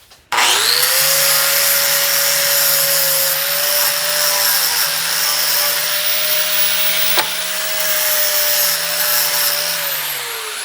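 A grinder whines at a high, steady pitch while grinding small metal plant-stake parts in a shop. The motor spins up, holds a loud continuous tone with abrasive hiss for about ten seconds, then slows slightly at the end. Close and alone.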